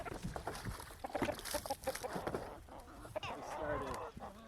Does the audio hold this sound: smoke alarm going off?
no